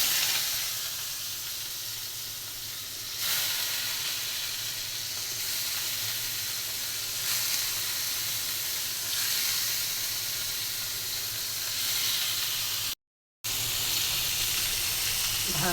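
Fish frying in hot oil in a home kitchen, a steady, loud sizzle running the whole time with slight swells, cut off by a brief gap of silence near the end.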